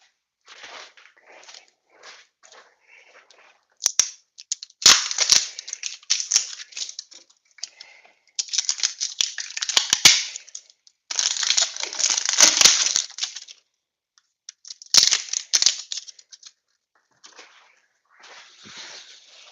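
Plastic wrap being peeled and crinkled off the grip of a Babolat Pure Strike tennis racket, in close, irregular bursts of crackling rustle separated by short pauses.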